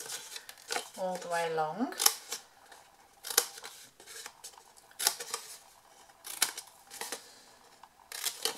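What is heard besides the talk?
scissors cutting little wedges out of paper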